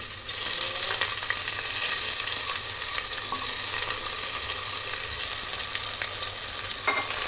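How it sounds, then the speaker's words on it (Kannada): Moong dal, cumin and pepper roast in oil in a pan on low heat for millet pongal: a loud, continuous close sizzle with faint scraping stir sounds and no talking. "ಜೀರಿಗೆ, ಮೆಣಸು ಮತ್ತು ಹೆಸರುಬೇಳೆ ಇಲ್ಲೇ ಹುರಿಯೋದ್ರಿಂದ"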